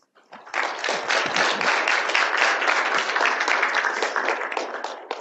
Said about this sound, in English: let us give a big round of applause to Professor Diaconis for his 4 lectures this week